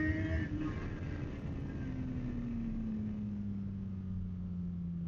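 Honda CB1000GT motorcycle flicking through track chicanes, its engine note droning steadily and falling in pitch, with wind rush and no talk.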